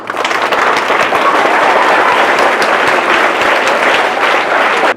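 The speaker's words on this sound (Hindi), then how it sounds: "सीए के हस्ताक्षर के लिए एक बार जोरदार तालियां" A lecture-hall audience bursts into loud, sustained applause, dense clapping from many hands filling the space evenly for about five seconds before stopping abruptly.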